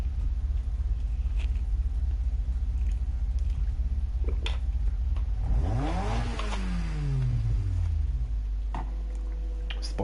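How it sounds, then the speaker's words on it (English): Car engine in Gran Turismo Sport rumbling steadily low, then a clear rev and accelerating sweep mid-clip that falls away, with occasional ticks and no talk. "Spicy little engine."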